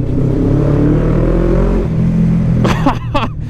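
A motorcycle engine revving loudly, a deep, steady roar that drops in pitch partway through, followed by a couple of sharp rising whines near the end.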